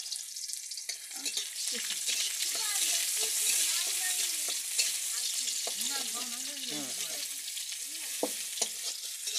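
Onions frying in hot oil in a home kitchen give a steady, close hiss that runs throughout, with faint voices talking underneath.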